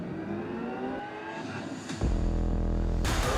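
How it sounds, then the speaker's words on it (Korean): A simulated engine sound played through a car's interior speakers swells, then jumps abruptly to a louder, steady buzzing drone partway through, with a brief whooshing edge near the end. "자동차 엔진 소리 같은 소리가 와 이렇게 나잖아요"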